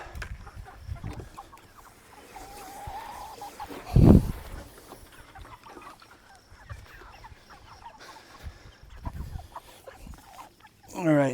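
Chickens cluck and squawk in a scuffle over food nearby, with a sharp thump partway through and a person talking intermittently.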